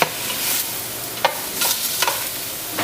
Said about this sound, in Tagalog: We will cook the beef for 5 minutes.